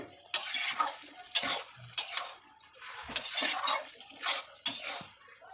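A metal spoon clinks and scrapes repeatedly against a pan while vegetable curry with dried shrimp is served, about seven sharp scraping strokes in an irregular rhythm, close and fairly loud.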